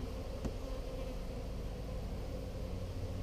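Honey bees buzz in a dense, continuous drone as they are shaken out of a hive box, steady and close with a low rumble underneath and a brief knock early on.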